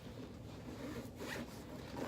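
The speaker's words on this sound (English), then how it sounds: "It's a zipper right here" A zipper on a pocket of a police duty bag is pulled in a soft, close rasping run, a continuous fine zipping texture lasting about two seconds.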